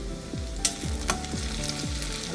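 Chopped tomato goes into onions frying in a pan for a sprouted mung bean curry, bringing a steady close sizzle with two sharper hissing bursts over a low background hum, without any talk.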